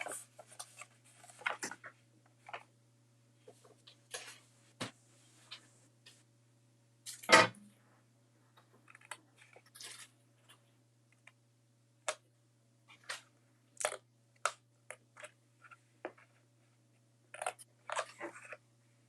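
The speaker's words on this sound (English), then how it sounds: "But I'm almost done with the little cutting." Scissors cutting paper for a 6x6 card: sparse, crisp snips and rustles in irregular bursts, close and quiet over a steady low hum, with one louder clack midway.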